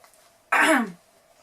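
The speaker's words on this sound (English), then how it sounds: "Clear your throat." A single short, close throat clearing, a rough guttural burst lasting about half a second against a quiet background.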